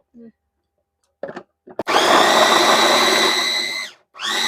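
A stainless steel vegetable chopper cuts carrot: a few short clicks, then a loud, close motor whir runs steadily for about two seconds, stops, and starts again.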